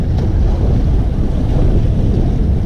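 Rough sea waves and gusting wind buffet a small boat, making a continuous dense roar with heavy wind noise on the microphone and no speech.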